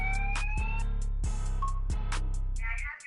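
A building alarm blares in a football video game, a loud repeating electronic tone with pulsing beeps that runs continuously and then cuts off near the end.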